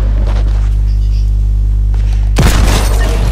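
In a murder-mystery video game, one loud, sharp gunshot cracks out suddenly after a steady low electronic hum and fades into a short ringing tail.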